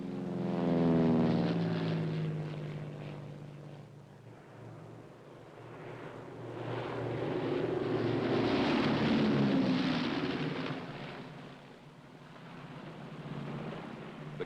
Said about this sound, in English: small spotter planes often lead them in